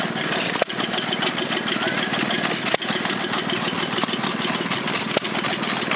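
A 1920 engine chugs at a steam engine fair in Stotfold, a loud, steady rhythmic running with regular sharp knocks and no talk.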